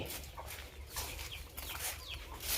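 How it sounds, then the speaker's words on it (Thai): Chickens cluck in a rural yard beside an elephant camp, a few short clucks scattered over steady low background hum and noise, moderately faint and fairly close. "มีเลี้ยงไก่เลี้ยงกาด้วย"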